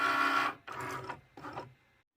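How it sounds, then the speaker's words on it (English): A vinyl cutting machine whirs in three short mechanical bursts as it reads registration marks and cuts a circle, close and moderately loud, then stops. "It's going to go ahead and check out the registration marks and then cut out that circle."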